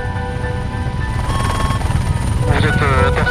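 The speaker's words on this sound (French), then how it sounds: "Vous êtes intercepté par un hélicoptère de l'armée de l'air" An air force helicopter thrums loudly and steadily close by, its rotor chop filling the background while a voice speaks over it.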